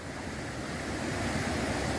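The first tier of Namtok Chet Sao Noi, a limestone waterfall in a Thai national park, gives a dense, steady roar of falling water, loud and unbroken, with no voices over it.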